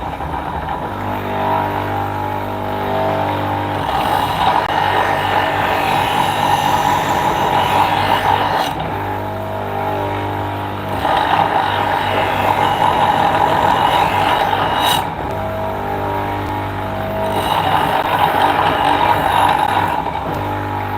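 A slaughter knife made from Mercedes Unimog steel is ground on a 180-grit non-woven abrasive belt, a loud continuous machine whir with rhythmic rasping in several long passes separated by short dips.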